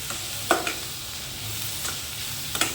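Capsicum and mixed vegetables with salt sizzle quietly in a pan, with a few sharp scrapes of a stirring spoon standing out over the steady frying hiss.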